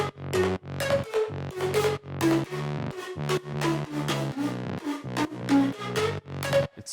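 Synth bass from an init patch in Diva, a buzzy, distorted, fart-like tone played in a choppy rhythmic line of short repeated notes, heard alone.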